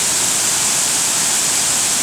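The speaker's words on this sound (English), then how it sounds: "a wonderful waterfall that looks like it's been built" Steady, loud roar of a waterfall near the Douglas Hotel, water pouring over a straight, uniform ledge and striking rock below, a dense continuous rush with no pauses and no voices over the two seconds.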